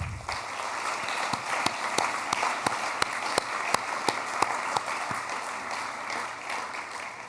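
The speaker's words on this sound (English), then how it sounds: "A round of applause for Maya." Applause at a university awards ceremony, a modest crowd clapping with distinct individual claps standing out over a soft hall ambience, fairly faint and steady before tapering off.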